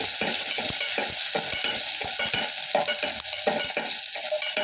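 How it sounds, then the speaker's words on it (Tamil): Small onions, sliced lengthwise, fry in hot oil with fennel seeds, giving a steady close sizzle broken by frequent scraping stir strokes throughout. "நல்லா வெங்காயம் நிறம் மாதிரி வதங்கணும்"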